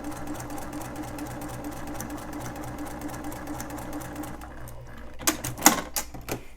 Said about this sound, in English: just sew straight on that line just like we did before